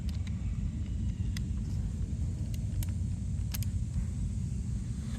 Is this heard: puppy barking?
no